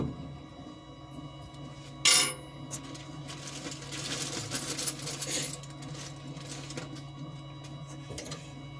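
Screws are removed from a Creatbot F430 3D printer: a sharp metallic click stands out over a steady low mechanical hum, followed by softer handling rattles.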